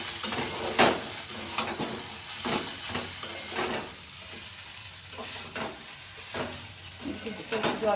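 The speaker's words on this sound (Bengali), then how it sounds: "তো মশলাটা দিয়ে একটু আমি কষে নেবো।" Spice paste fries in a pan for a homemade chana paneer, sizzling and hissing under rhythmic, uneven scrapes of a spoon stirring against the metal.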